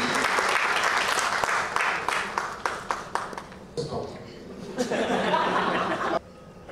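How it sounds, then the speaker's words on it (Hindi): Loud, sustained applause from a crowd at a press conference fills the whole stretch, with scattered chuckles and some voices mixed in before it drops off near the end. "जोरदार ताली"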